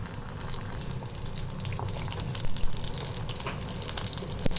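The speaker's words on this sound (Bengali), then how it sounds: "তেল গরম হয়ে গেছে, এবার একটা র্যাপ ছেড়ে দিলাম।" A spinach and cheese wrap sizzles in hot oil, a loud continuous hiss and bubbling with a few sharper pops, heard close and alone.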